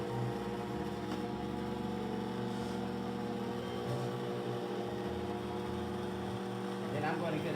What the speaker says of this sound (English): I'm going to put my mixer down and turn that little boy on low